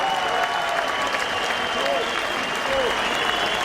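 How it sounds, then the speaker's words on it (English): The arena crowd at the Odyssey Arena in Belfast applauds after an eight-round boxing bout, a broad, steady wash of clapping and cheering under a commentator's voice. "And the applause here at the Odyssey Arena reflects that."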